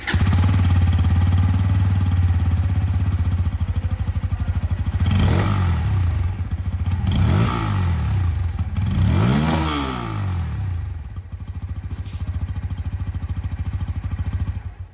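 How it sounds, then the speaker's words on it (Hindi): A Bajaj Pulsar N160 motorcycle with an underbelly exhaust runs steadily close by, its low exhaust note rising in three sharp revs before settling back toward idle. "ये दोस्तों आप लोगों ने N160 की जो एग्जॉस्ट साउंड है वो सुन लिया।"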